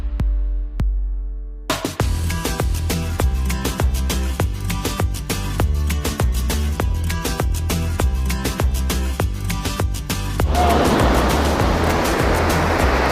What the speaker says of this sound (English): Oh, the sound of the ocean, the waves.